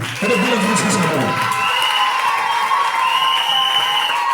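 A church congregation cheers and applauds with whoops and shouting, loud and sustained throughout, with a voice over the start of the din.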